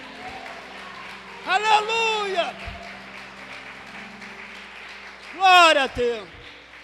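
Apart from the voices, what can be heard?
congregation applauding the Lord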